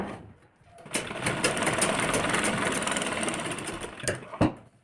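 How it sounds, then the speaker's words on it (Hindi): A sewing machine runs a steady stitch along the edges of a lehenga blouse, starting with a click, then a continuous close whirring hum for several seconds before stopping with a clack. "इसके किनारे किनारे पूरे पे सिलाई लगा लेंगे हम यहाँ पे इस तरह से"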